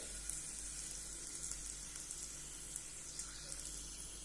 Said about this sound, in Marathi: थोडंसं आपण एक तुकडं असं टाकून पाहायचं. आता छान असं तापलेलं आहे तेल आपलं.